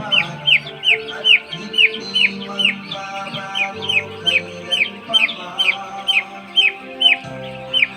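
Six-day-old broiler chicks on a farm of about 6,000 birds, a dense chorus of high, repeated peeping cheeps in quick regular bursts, close and loud, with a low mechanical hum underneath.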